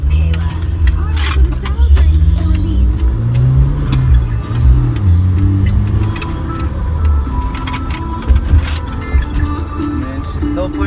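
A used car's engine fitted with a cold air intake revs up and down in rising and falling swells, loud and close, while people talk over it.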